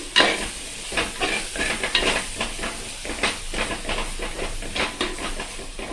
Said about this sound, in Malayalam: ഇഞ്ചി വെളുത്തുള്ളിയും ഇട്ടിട്ട് നമ്മൾ ഇളക്കി